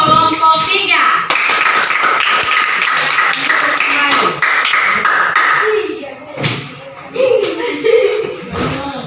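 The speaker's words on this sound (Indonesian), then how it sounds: "kalau tidak kita beri aplaus untuk kelompok 3" Classroom applause for a student group in a school lesson, a dense run of claps filling most of the clip and thinning out near the end, with voices and light laughter mixed in.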